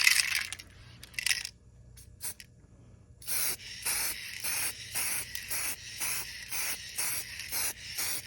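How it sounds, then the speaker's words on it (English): Spray gun painting primed, sanded rust repair on a Mazda RX7, heard as a string of short, regular hissing bursts that follow a few scattered earlier sprays, fairly close with no talk. "Now we're gonna hit it with the paint."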